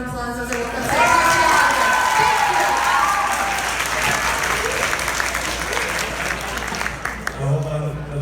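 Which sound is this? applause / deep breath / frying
applause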